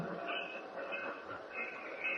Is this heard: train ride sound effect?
yes